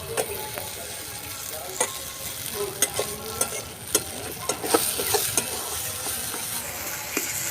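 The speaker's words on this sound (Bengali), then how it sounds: "এটা নেড়েই যেতে হবে এরম করে নালে কড়াই ধরে যাবে" Mashed taro paste sizzles in a hot pan over low gas while a utensil stirs and scrapes, with irregular clinks and knocks against the metal over a steady frying hiss.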